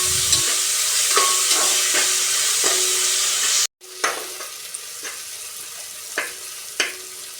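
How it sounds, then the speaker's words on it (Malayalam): Chopped shallots and onions fry in a pan with salt, a steady sizzle running throughout while a spoon scrapes and stirs in regular knocks. There is a brief cut-out midway, then the sizzle and the stirring taps continue, close and loud. "ആവശ്യത്തിന് ഉപ്പ് ചേർത്ത് നന്നായി ബ്രൗൺ കളർ ആകുന്നത് വരെ ഇളക്കുക"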